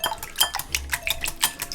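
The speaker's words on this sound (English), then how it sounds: "And you're going to just whisk those through." Eggs whisked briskly in a bowl for a Jamaican carrot cake batter, a quick rhythmic series of light clinking taps from the whisk against the bowl, close and steady.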